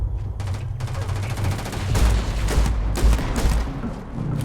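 Shotgun firing shells in the video game Starfield, a rapid volley of loud, heavy blasts with dense gunfire ringing continuously through the moment, close and forceful.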